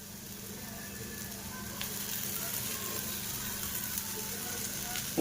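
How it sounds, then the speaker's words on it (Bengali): Chow mein with soy sauce sizzles steadily in a pan, a continuous close frying hiss with a small clatter near the end. "আর এবার আমি এর মধ্যে দিয়ে দেবো ওই ঝরিয়ে রাখা চাউমিনটা"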